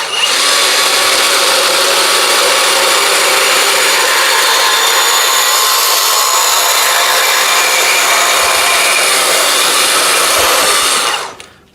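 A VEVOR 20V cordless portable band saw cuts through a piece of exhaust pipe, giving a loud, steady high-pitched metallic whine that holds evenly for about eleven seconds before stopping abruptly.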